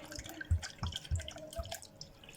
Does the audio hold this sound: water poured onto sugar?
yes